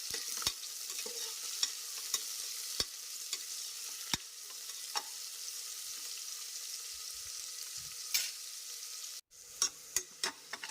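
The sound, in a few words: onions frying in oil for mutton keema biryani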